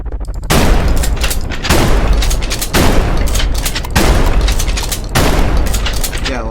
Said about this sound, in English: when I press right click, it fires it. I'm using the shotgun because it has more ammo than the SMG alt fire.